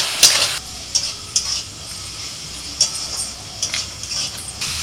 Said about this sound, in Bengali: আদা রসুনটা ভেজে নিয়ে দিয়ে দিচ্ছি টমেটো কুচি আর কাঁচা লঙ্কা কুচি